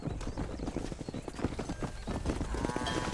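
Hooves clop steadily from cattle or a bull in Red Dead Redemption, a dense close trampling with faint animal calls mixed in and no talk.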